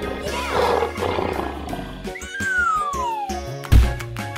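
A lion roars loudly and close, a rough, rumbling roar over a background of other animal and game sounds, ending with a sharp low thump.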